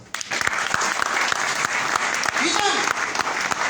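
An audience in a hall applauds in honour of someone, a dense, steady wash of clapping with sharp individual claps standing out and a voice briefly heard over it.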